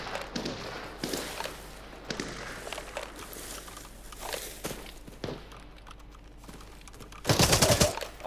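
Gunfire in the shooter game Arena Breakout: Infinite, with scattered sharp shots and a louder burst near the end, over faint footsteps and background noise, moderately distant and fairly quiet overall.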